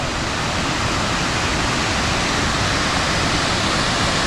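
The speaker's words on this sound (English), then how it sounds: "what a really cool waterfall kind of disappearing in a cave" Sheep Cave Falls, a waterfall plunging into a cave, roars as a dense, steady wash of rushing water, loud and unbroken throughout.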